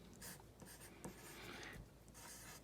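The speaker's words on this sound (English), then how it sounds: "I'm going to write the word value" Pencil or pen scratching across paper by hand, writing out a word in a steady run of soft, close strokes with brief pauses between letters, quiet and alone.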